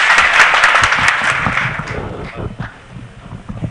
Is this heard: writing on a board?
no